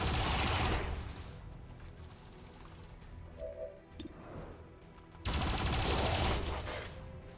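Automated turrets fire in an alien-mission strategy game, with dense bursts of loud rapid gunfire at the start and again near the end, framing a quieter stretch of mechanical game noise between.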